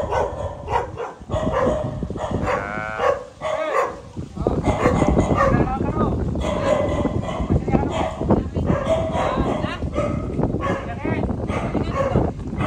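Dogs bark repeatedly amid noisy commotion in a flooded house, with people talking over and between the barks throughout.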